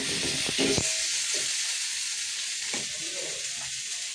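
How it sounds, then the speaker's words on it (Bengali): Meat frying in a pan for a home holiday meal, a continuous loud sizzle and hiss with a few short stirring scrapes near the start and middle, close up, no voices. "মাংস রান্না চলছে"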